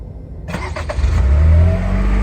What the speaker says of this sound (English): Once you hear the car start,